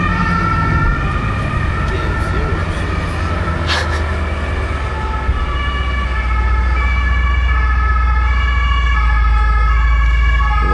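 Emergency vehicle sirens wail along a Berlin street, a steady rising and falling tone heard from a moving open-top car, with road and engine rumble underneath that grows louder toward the end.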